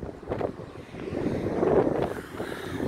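Wind blows and buffets against the microphone outdoors on a windy, dusty day in Argentina, making a low, fluctuating rumble that swells toward the middle and runs steadily throughout, with no talking.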